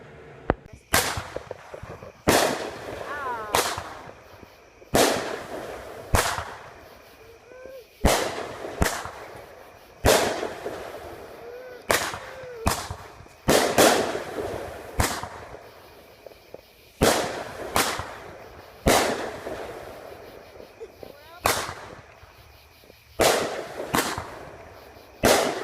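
A backyard Independence Day fireworks display: repeated sharp, loud bangs and crackling pops at irregular intervals, some fizzing between blasts, going on steadily for the whole stretch.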